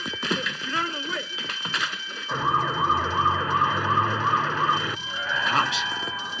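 Police car sirens wail loudly from several cars arriving outside a bank during a robbery, rising and falling and overlapping one another, with voices talking over them in a comedy scene.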